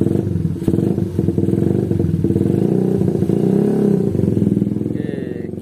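A Suzuki Satria FU motorcycle with a PE28 carburetor, fixed for a misfiring brebet fault, runs steadily and loud on a road test drive, its engine droning continuously with a rising-and-falling rev swell near the middle.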